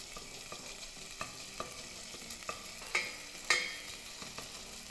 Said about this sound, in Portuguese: Começa fritando o bacon.